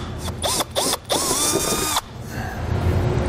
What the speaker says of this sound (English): I'm actually going to drill out the center of each rivet.